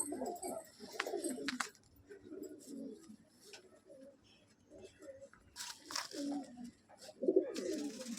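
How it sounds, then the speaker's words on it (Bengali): A restless, hand-held Dhari pigeon, a hen currently laying eggs, coos in soft bursts and rustles its feathers, heard close up with quiet pauses between the calls. "পায়রা ধরে রাখা যাচ্ছে না।"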